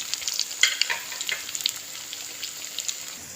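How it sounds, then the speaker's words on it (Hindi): Sabudana vada, sago fritters, frying in hot oil and being turned over: a crisp, crackling sizzle with sharp spattering pops and light scraping, close and fairly loud, no talk. "मैंने इसको अलट पलट करके इसको इस तरीके से फ्राई कर लिया"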